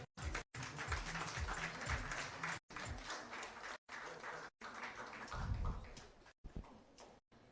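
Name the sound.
audience applause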